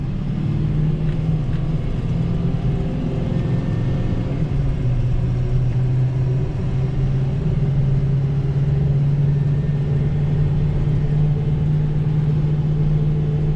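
A 2019 Ford F-750 dump truck pulls away in first gear, its engine producing a steady, loud, low rumble that climbs gently in pitch as it accelerates, with no talking over it.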